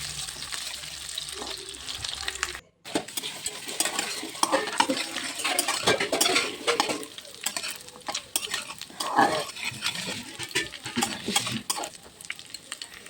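Mustard oil sizzles and crackles steadily in a pan while a utensil scrapes and clinks against the metal, with a brief gap early on before the frying resumes.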